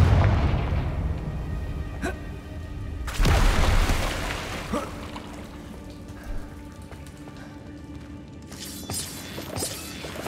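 A magical Confringo blast spell explodes in Hogwarts Legacy, one big booming burst with crackling debris and shattering spatter, set among smaller sharp impacts and fading clatter.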